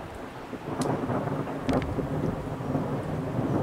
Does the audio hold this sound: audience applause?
no